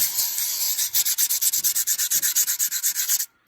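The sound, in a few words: hand sanding crusty chrome on a 1940 Mercedes with fine sandpaper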